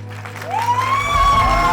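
Audience applause for the performers at a Gujarati film premiere, clapping swelling up under a rising tonal whine, with crowd noise building toward the end.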